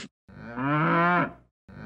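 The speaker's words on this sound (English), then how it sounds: "Calf." A calf lets out one loud, close moo lasting about a second, starting low and swelling, alone with short silences before and after.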